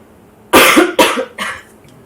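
Three harsh coughs in quick succession, loud and close, the last one weaker and trailing off.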